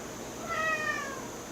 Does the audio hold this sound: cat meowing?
yes